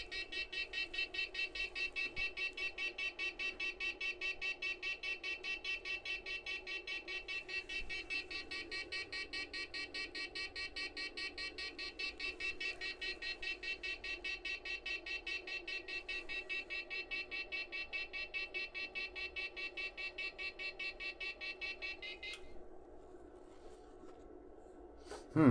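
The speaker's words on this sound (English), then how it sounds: "Some sort of buzzer." A NEMTEK Stealth electric fence energizer under repair gives off a steady, high-pitched rapid buzzing tone that drones continuously for over twenty seconds before cutting off abruptly.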